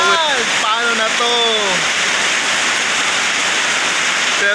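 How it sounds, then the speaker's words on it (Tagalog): Heavy rain pouring down with a dense, constant hiss while a barbecue stand keeps going in the downpour; someone's voice rises briefly over it at the start. "Yan, ang lakas-lakas ng ulan."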